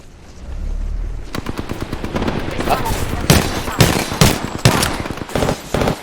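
Video game gunfire crackles in rapid automatic bursts and single sharp shots, loud and close, spread across most of the clip.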